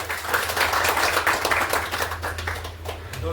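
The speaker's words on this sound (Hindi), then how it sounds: "जोर से ताली बजाइए" A room full of attendees at a weekly business meeting claps loudly. A thick, continuous wash of many hands holds at an even, strong level for a few seconds, with a low hum underneath.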